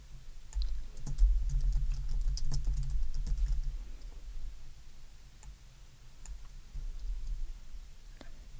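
Steady typing on a computer keyboard while filling in metadata fields on a desk computer, with irregular clusters of close, crisp key clicks and brief pauses between bursts.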